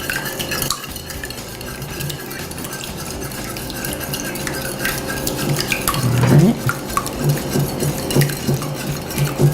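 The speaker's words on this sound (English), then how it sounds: "So we're going to beat these with the whisk." A whisk beats ingredients in a bowl for orange cookies, making a fast, steady run of close clicking and tapping against the sides. The rhythm holds throughout and grows slightly louder toward the end, with no talking.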